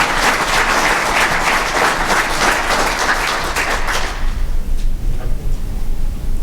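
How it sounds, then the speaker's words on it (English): Applause from an audience at a police department annual awards ceremony, loud and sustained for about four seconds, then quickly thinning out to a few scattered claps. "How about one round of applause for"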